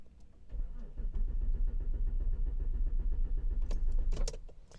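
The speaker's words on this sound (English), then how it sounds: "and we'll crank the car. So let's crank it." Car engine cranking without starting, the starter motor churning in a steady, rapid pulsing rhythm for several seconds with no catch, close and fairly loud, ending with a few clicks and clunks.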